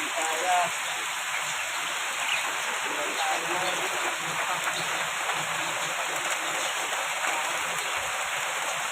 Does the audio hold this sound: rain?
yes